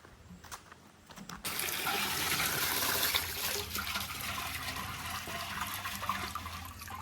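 Water pours steadily from a tap after a brief quiet start, a loud, continuous rushing stream that holds for several seconds.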